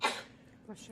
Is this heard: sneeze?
yes